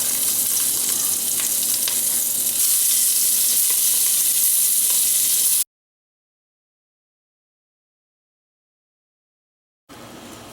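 Beef browns in hot canola oil in a Dutch oven with a loud, steady sizzle for about five seconds, then silence, and the sizzling returns briefly at the end.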